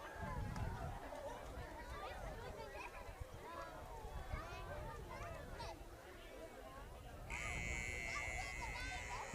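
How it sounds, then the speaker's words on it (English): A long electronic buzzer sounds near the end to start the second half of a high school football game, a steady loud tone over crowd murmur and a commentator's voice. "Buzzer goes off here to start the second half."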